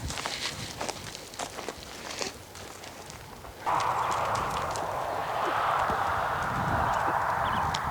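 Horse hooves clip-clop rhythmically on an arena during a cross-pole canter lesson, steady repeated hoofbeats up close, joined midway by a broad steady whooshing noise.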